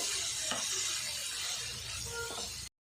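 Masala powders stirred into chicken frying in a pan, a continuous hiss and sizzle with a few scraping strokes of a spoon, close and steady before cutting to silence.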